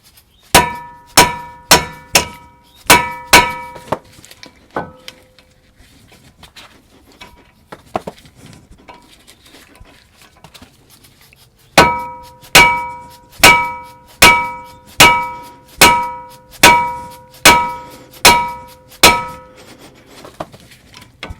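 A hammer strikes a tool fitted onto a corroded Torx T30 front disc brake fastener on a GM 1500 SUV truck, sending out sharp ringing metallic clangs in two rhythmic runs of about eight and ten blows with a quiet gap between.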